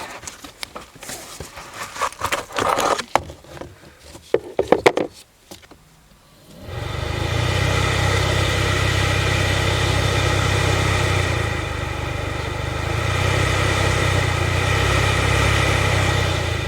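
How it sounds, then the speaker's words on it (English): A Chevrolet Cruze cabin blower motor with leaves caught inside gives a steady, loud rumbling whir once the fan switches on. It holds near-constant for about ten seconds after several seconds of handling clatter, with a brief dip midway. "there's a rumbling noise. That means there's leaves inside the blower motor."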